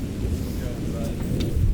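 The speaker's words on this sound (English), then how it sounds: "Are we going on with this in the rain?" Outdoor rain falling in a steady hiss, with a low rumble that suggests distant thunder, continuous throughout the short stretch and not covered by speech.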